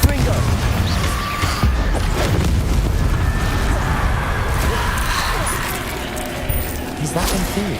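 Confringo blasting spell going off in the Hogwarts Legacy video game: a dense, continuous rumble of booming blasts and crashing impacts, loud and sustained throughout, with talk mixed in.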